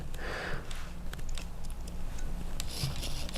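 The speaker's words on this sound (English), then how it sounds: "Barely rubbing the front of that housing." RC crawler with high-reduction Holmes Hobbies axles, a gear barely rubbing against the front housing, giving a faint scraping and ticking close by with no talk.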